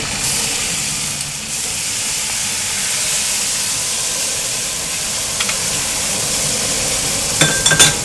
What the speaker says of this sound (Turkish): bardak sıcak suyu etime koyuyorum